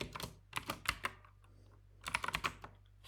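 Python code being typed on a computer keyboard, two quick clusters of close, crisp key clicks separated by a short pause, quiet and without talk.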